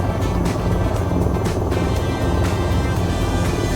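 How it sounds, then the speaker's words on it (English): A helicopter hovers in the flight game VTOL VR, a steady, loud rotor drone with dense low thrum and no voices. "Show them who's boss with the helicopter."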